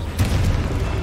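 A Confringo fire spell explodes in Hogwarts Legacy, a brief dense boom with a rumbling burst, close and loud.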